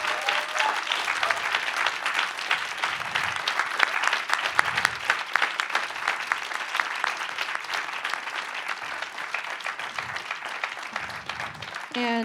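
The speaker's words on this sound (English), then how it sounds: "can we just give one huge round of applause for everyone?" An audience at an anti-war committee panel gives a long, full round of applause for the panelists, steady crowded clapping filling the room throughout, with faint murmurs underneath.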